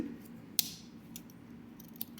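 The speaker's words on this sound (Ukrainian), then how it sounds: "Далі ножниці" Small scissors on a Victorinox Swiss Army knife snap shut a few times, crisp close clicks spaced apart against a quiet background.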